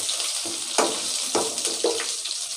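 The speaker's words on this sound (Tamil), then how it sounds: "இது நல்லா பொரியட்டும்." Ginger garlic paste sizzles as it fries in butter and oil. A steady crackling hiss runs throughout, with several sharper bursts that suggest stirring or spattering, close and fairly loud with no talking.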